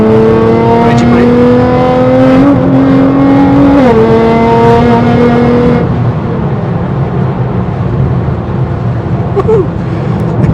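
A 640bhp Nissan GTR on air ride suspension driving, its engine droning loud and close with rising and shifting tones, then settling into a steadier rumble of road noise.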